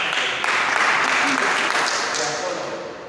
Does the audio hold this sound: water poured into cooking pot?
no